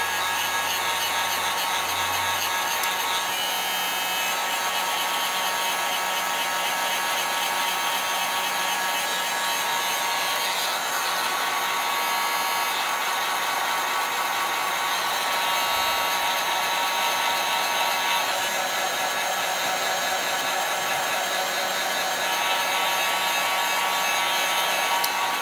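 A hair dryer drying chalk paste on small craft minis, blowing as a steady, loud whooshing hum that runs unbroken throughout with no voices.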